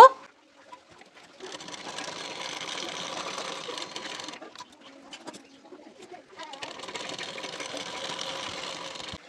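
A sewing machine stitches darts on the back piece of a boat-neck blouse, two steady whirring runs of rapid stitching separated by a short pause, fairly quiet and close, with a dove cooing faintly.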